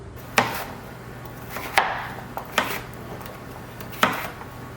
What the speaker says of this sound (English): I'm gonna start by just cutting up this butternut squash into cubes